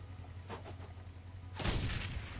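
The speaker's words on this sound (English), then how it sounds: "throw a grenade. Because there's never a bad time to use a grenade." A grenade thrown in the Shadowrun: Hong Kong video game detonates in one loud, sharp blast after a quiet moment, its rumble trailing off briefly.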